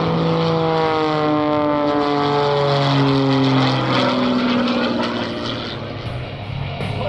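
An aerobatic propeller plane dives at a Key West air show, its steady loud engine drone swelling with falling pitch as it gathers speed, close and continuous.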